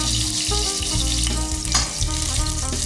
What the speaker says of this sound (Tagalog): And maglagay na po tayo ng bawang. Magigisa na po tayo.